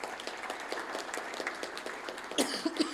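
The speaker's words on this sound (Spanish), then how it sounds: "para lo cual le pido un gran aplauso" A crowd claps steadily in a dense, even patter, moderately loud, with a few coughs and murmurs near the end.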